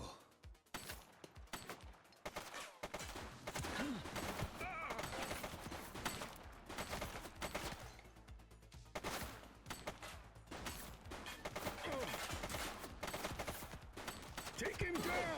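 Gunfire rattles in bursts and rapid volleys during a police shootout cutscene in The Precinct, fairly distant and mixed with shouted voices and scene noise.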